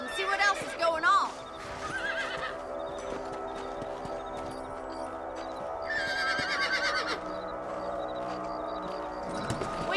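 Horses in the Red Dead Redemption video game whinny loudly at the start and again partway through, with steady clip-clop of hooves running underneath and some game speech mixed in.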